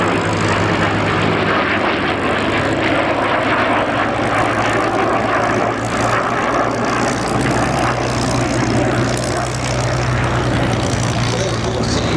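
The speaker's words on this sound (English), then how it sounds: "coming in again from your right hand side, here comes our lovely formation, led by Cam in that P47" A formation of warbird aircraft led by a P-47 Thunderbolt passes at an airshow, a loud, steady propeller engine roar sustained throughout, with a crowd announcer talking over it.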